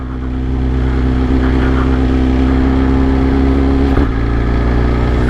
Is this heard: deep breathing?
no